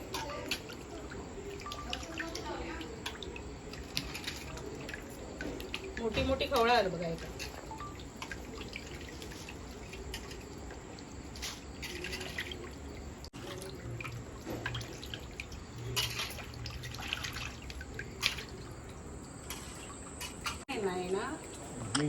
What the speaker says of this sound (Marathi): मासो तो मी आता धुवून घेतोय स्वच्छ पाण्यामध्ये